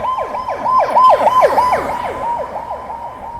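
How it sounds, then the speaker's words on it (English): A loud ambulance siren wails in a rapid, repeating sweep, close and continuous with road noise underneath. "Yeah, the ambulance."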